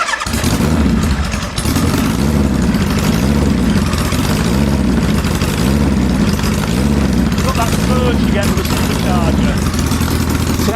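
An engine runs at a steady idle while its throttle and idle are adjusted, producing a continuous low, rhythmic chugging that stays close and loud throughout with only slight variations in pace.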